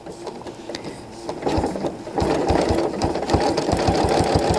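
A domestic sewing machine quilting along a ruler template runs in a fast, even stitching rhythm, close and steady, speeding up partway through and continuing alone without talk.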